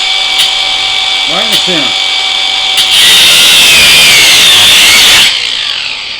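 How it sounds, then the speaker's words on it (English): Ryobi One+ cordless grinder cutting a groove into a stripped screw, a loud high-pitched whining grind for a few seconds after a brief spoken remark, then spinning down. "Take your grinder, and this is another Ryobi 1 tool that's amazing, and cut a groove in it,"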